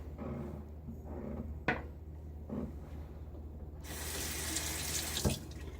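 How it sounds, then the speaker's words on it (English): A shaving soap puck is rinsed upside down under a running bathroom tap; water streams steadily with a few sharp knocks and clatters, then the flow grows louder and brighter toward the end. "I hold the puck upside down so I can rinse away the part in the threads"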